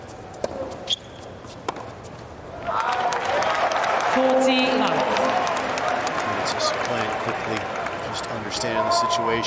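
Spectators at a US Open tennis quarterfinal break into sustained applause that swells after a quiet start, with a commentator talking over the crowd noise.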